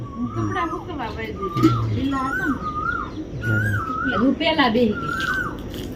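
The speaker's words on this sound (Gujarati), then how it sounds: "કોયલ ટવકારા કરતી" An Asian koel calls repeatedly with rising, whistled notes at a steady pace, heard over continuous talking in the foreground.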